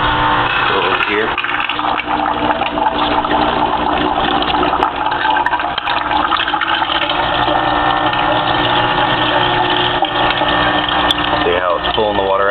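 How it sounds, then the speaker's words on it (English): An aquarium sump pump changes tone as it starts pulling water in, giving a steady gurgling, rushing flow with a mechanical hum underneath and brief wet slurps near the end. "You can hear the pump changing. It's actually starting to pull water in."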